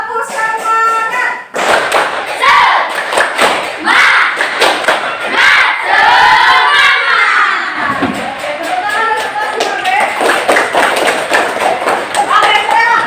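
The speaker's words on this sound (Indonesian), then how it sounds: "mari kita tepuk semangat dulu" Schoolchildren in a fifth-grade classroom clap and shout a rhythmic spirit chant together, a loud, busy burst of claps and young voices that fills the whole stretch.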